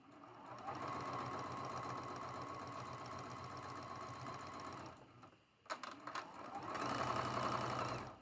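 A sewing machine stitching quilt triangles with a quarter-inch seam runs in a steady, close whirring burst, pauses briefly, then resumes for a second run.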